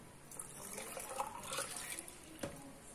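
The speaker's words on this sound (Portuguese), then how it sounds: "Daí você coloca um pouquinho de água." Water poured from a container into a blender holding fruit pulp, a soft splashing trickle with light gurgles lasting a few seconds, close and fairly quiet.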